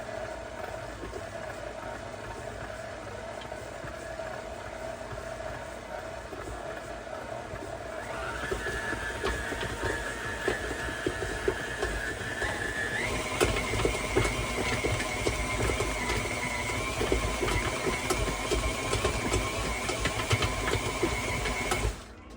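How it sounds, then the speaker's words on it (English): A stand mixer with a dough hook kneads a large batch of French bread dough, its steady motor whine running throughout and stepping up in pitch twice as the speed is raised, with a rhythmic labouring knock from the crowded bowl. "This particular recipe is almost too big for this mixer, so you'll notice the dough is crawling up over the dough hook"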